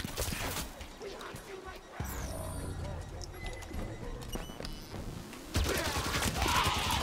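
Gunfire in Halo 5: Guardians rattles through a busy battlefield mix, with scattered shots, clattering effects and a louder burst near the end, while a player talks over it.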